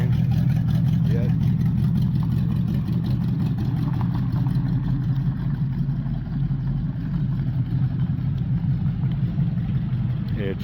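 A 1969 Chrysler 300 street machine, just revived after long neglect and lacking power steering, drives under its own power with a steady, continuous low engine rumble, while people talk loudly over it nearly throughout.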